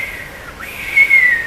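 A voice imitates an audience whistling in a theatre, producing one loud, close, sustained shrill whistle with a brief dip in pitch partway through.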